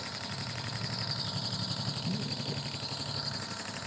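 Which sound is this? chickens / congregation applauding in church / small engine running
small engine running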